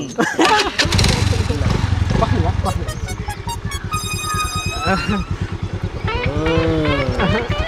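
A scooter engine cranks and catches, then settles into a rapid puttering idle, close by, with people talking loudly over it throughout.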